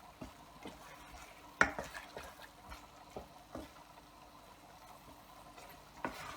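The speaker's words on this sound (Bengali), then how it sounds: "এখন হাই হিটে এটাকে নাড়বো।" Beef being stirred in a pan over high heat for a sizzling dish, with faint frying hiss under occasional scrapes and clinks of a utensil against the pan, soft and close.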